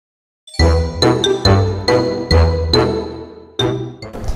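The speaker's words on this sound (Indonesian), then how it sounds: "itu bukan azan maghrib, tapi itu bel istirahat kedua" A school break bell rings during Ramadan, sounding a loud, close sequence of about eight bright chiming tones, each struck clearly and left to ring briefly before the next, with no one talking.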